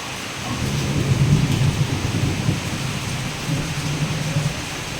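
Heavy first rain of the season pours steadily, a dense continuous roar with low rumbling underneath, constant and close throughout.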